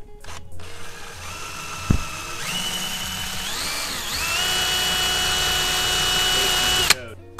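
A power drill driving screws into a custom glass intake box on a Subaru WRX, with a steady loud whining motor hum that shifts pitch as the screw bites, starting and stopping abruptly, close up.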